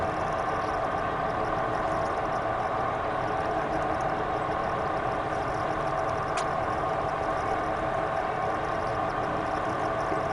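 A truck engine in SnowRunner idling low while climbing a mountain: a steady, even drone with a faint high click partway through, no speech.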